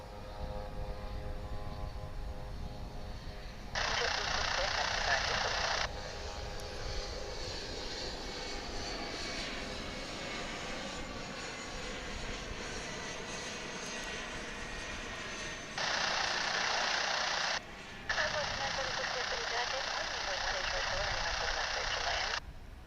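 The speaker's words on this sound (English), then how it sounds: "So that was the flight from Amarillo coming in." A passenger aircraft arriving from Amarillo lands at Dallas Fort Worth International Airport, a steady distant engine drone under bursts of broadband noise, with voices talking over it.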